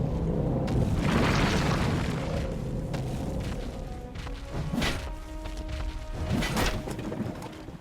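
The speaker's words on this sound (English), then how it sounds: "With earth-shaking steps, the unstoppable evil began its trek towards the front" Earth-shaking footsteps of the evil overlord in the video game Dungeons 2: heavy booming thuds and crashes, loud and close, repeating at irregular intervals over a rumbling game soundscape.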